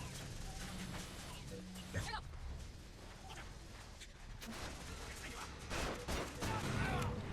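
Crank gun rattling off rapid bursts in BioShock Infinite, dense gunfire filling the scene with a few sharper shots and battle clatter mixed under a speaking voice.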